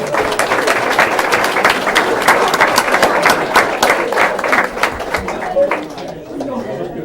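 Audience applause at a city board of mayor and aldermen meeting, a dense round of clapping mixed with crowd chatter that fades out near the end.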